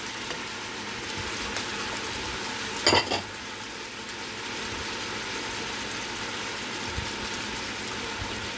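Celery, carrots, pumpkin and onions go into a pot of Trini chicken pelau, giving a steady hiss of frying with a brief louder clatter and sizzle burst as the vegetables drop in, and no one speaks.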